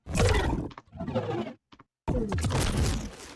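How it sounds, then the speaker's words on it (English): A tiger roar layered into a designed rocket thruster sound: a loud, rough, roaring burst, then a gap, then a second sustained surge of growling, noisy thrust. "There's a bit more of that tiger here as well."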